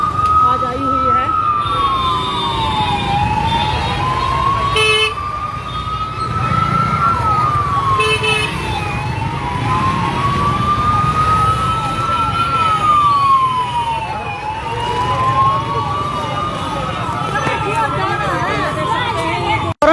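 Police vehicle sirens wail loudly through a crowded market, rising and falling in repeated sweeping cycles over a busy hubbub of voices and traffic, with someone talking over them.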